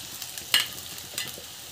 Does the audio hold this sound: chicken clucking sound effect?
no